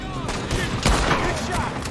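Gunfire rings out in a Western shootout in Red Dead Redemption 2, several sharp, loud shots in quick succession over a noisy background.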